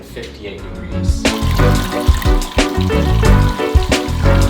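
A pump pushes water through the recirculation loop of a home-brewing mash tun during preheating, giving a steady, close splashing trickle that swells in volume while someone speaks briefly over it.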